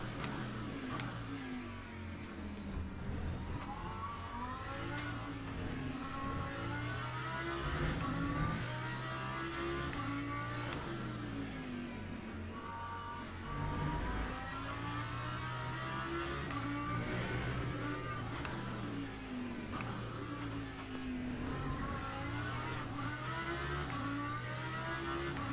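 Lamborghini race car engine in Le Mans Ultimate, a steady loud drone with rising and falling pitch as the car shifts and revs through gears, running continuously without talk.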